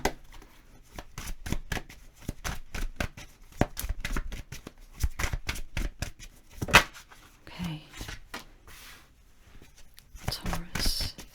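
Tarot cards are shuffled and pulled in a rapid run of crisp snapping riffles and slaps, close up. A voice talks over parts of it.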